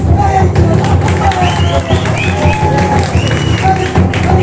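Audience applause at a children's circus performance: scattered clapping and crowd murmur under a loud voice speaking over a sound system, fairly close and steady throughout.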